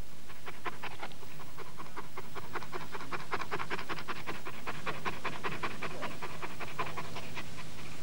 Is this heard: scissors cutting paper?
no